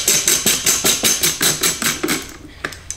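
Screws are tightened into a plastic speaker mount inside a BMW, giving a close, rapid series of about a dozen evenly spaced sharp clicks that thin out and fade near the end.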